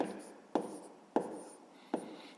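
A pen writing numbers on paper during a fifth-grade maths division exercise, quiet scratchy strokes broken by three sharp taps as the pen touches down.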